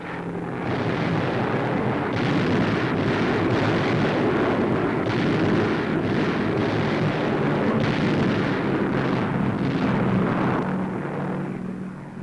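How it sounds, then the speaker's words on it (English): Wartime archival newsreel of low-flying B-25 bombers dropping delayed-action bombs in an air raid: a continuous, loud rumbling roar of blasts and engine drone with repeated heavier booms, dense and distant-sounding, no voice over it. "Now, low-flying B-25s unload tons of delayed action bombs."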